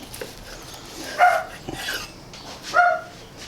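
Two or three short, high-pitched dog barks or yips spaced a second or so apart, fairly distant against a quiet background.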